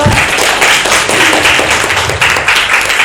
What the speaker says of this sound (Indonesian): kita tepuk tangan untuk Mama dong